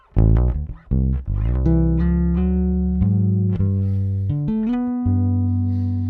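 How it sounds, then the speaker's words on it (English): Electric bass guitar on a single-coil neck pickup with a jazz bass sound plays a run of notes with a warm, round tone, starting with quick plucked notes and settling into longer sustained ones. "this single coil, because that is a jazz bass sound, like the neck of a jazz bass"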